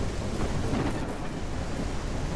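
Thunder rolls and rain pours during a storm in the open-world survival game KeepUp Survival, a continuous loud rumbling wash with steady rain noise and no talk.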